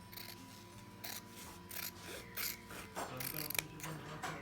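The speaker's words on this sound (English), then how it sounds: "just with our scissors" Fabric being cut with scissors while making simple cloth face masks, a quiet series of snipping, clicking blade strokes in short bursts over several seconds, close to the microphone with no talking.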